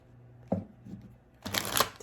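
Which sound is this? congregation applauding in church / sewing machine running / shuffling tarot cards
shuffling tarot cards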